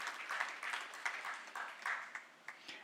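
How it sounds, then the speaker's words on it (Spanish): A small congregation in a church discipleship class gives a brief, faint round of applause, with scattered claps in loose, uneven bursts that thin out toward the end. "Vamos a reafirmarlo con un aplauso al Señor."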